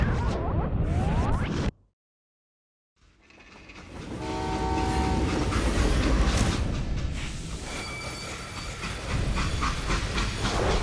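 Steam train in the Western shooter Call of Juarez: Gunslinger, rumbling loudly with hissing steam and a horn-like tone, cut by a sudden second of silence before the rolling wagons and hiss swell back up.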